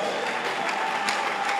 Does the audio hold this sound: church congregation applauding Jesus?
yes